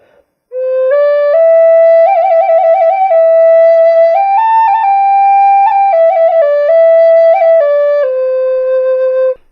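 A side-blown spirit flute played with a fluttering fingering technique, clear sustained tones stepping through several notes with rapid trilling warbles between them, close and loud with no talk.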